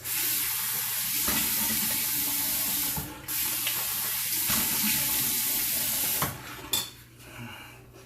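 Tap water runs steadily into a sink while someone rinses off after a shave with a Feather Artist Club shavette, a continuous close spray broken by brief splashes and a short pause near the end.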